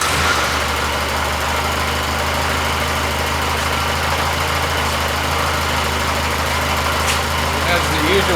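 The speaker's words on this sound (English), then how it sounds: "It has the usual Austin 7 rumble, which I thought was kind of loud, but evidently it's quite normal." Original 83-year-old Austin Seven engine idling with a loud, steady low rumble up close, running evenly throughout with no clear start heard.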